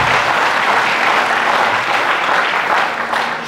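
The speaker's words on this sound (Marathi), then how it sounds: "सगळ्यांनी एकदा टाळ्या वाजवा." An audience at a college startup and innovation workshop in Sangamner claps steadily together, a dense, sustained round of applause that carries on without a break and fades slightly at the end.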